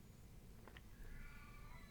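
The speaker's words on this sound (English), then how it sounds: "I do apologise if you can hear one of my cats yowling in the background." A cat yowls faintly in the background of a quiet indoor room, letting out a drawn-out, wavering cry after a few brief squeaks. No one speaks.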